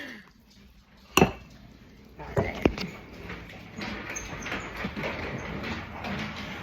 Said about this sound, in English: So then we're just mixing this up real good.